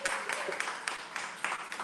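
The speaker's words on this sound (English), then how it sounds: "Can I get a hand clap?" Audience at a live evening talk event claps briefly for a newly introduced speaker, a dense patter of hands held at one level throughout.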